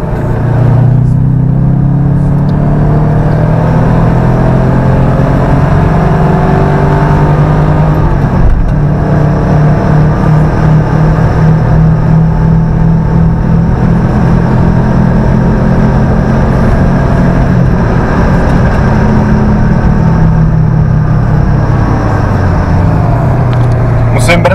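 Škoda car with a tuned exhaust pulling hard after a downshift to third gear, a loud sustained engine drone with rising and falling tone heard from inside the car, steady throughout with someone talking intermittently over it.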